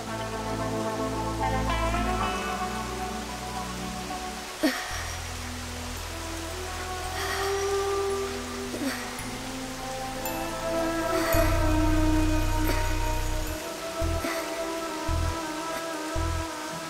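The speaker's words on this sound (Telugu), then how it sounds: "వర్షం చాలా చల్లగా ఉంది కదా" Rain falls steadily in a continuous soft hiss with scattered drips, under a low, droning hum that shifts in pitch, and no talking is heard.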